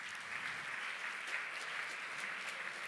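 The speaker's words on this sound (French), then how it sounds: "Et on applaudit ces programmes bien fort." Steady applause from an audience at a housing and territories awards ceremony, a continuous moderate clapping wash heard from some distance without speech.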